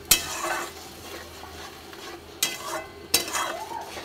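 A spoon stirs food in a cooking pan after water is added, giving soft sizzling and scraping with a few sharp metallic clinks against the pan, close up and without talk.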